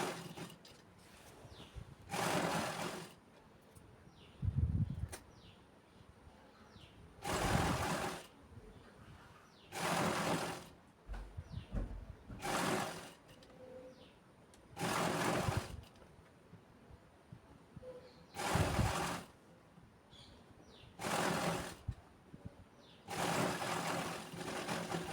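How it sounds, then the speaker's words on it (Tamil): Sewing machine stitching chudithar pant fabric in short repeated bursts of fast whirring with quiet pauses in between. The sound is close but fairly soft. "இப்போ இது ஃபுல்லாக ஸ்டிச் பண்ணி எடுத்துக்கலாம்."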